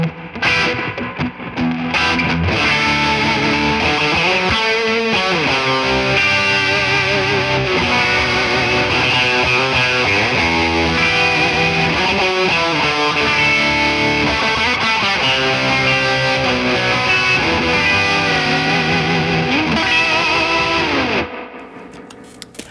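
An electric guitar plays through a thick, fuzzy vintage fuzz pedal distortion tone, a sustained riff with chords and lines for about twenty seconds before cutting off, in a live Cambodian rock setup.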